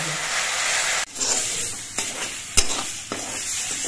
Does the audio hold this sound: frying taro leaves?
yes